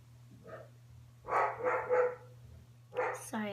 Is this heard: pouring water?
no